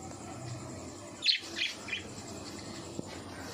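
Caged birds in a breeding cage give a few short, bright chirps close by, clustered in a quick burst near the middle over a low steady room hum, with no talking.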